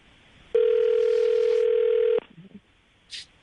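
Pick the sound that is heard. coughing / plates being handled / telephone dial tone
telephone dial tone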